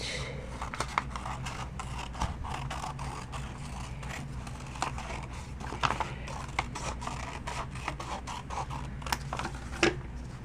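Scissors snip steadily around a shaped shoe shield cut from sheet material, a run of close, crisp cuts and rustles with no talking.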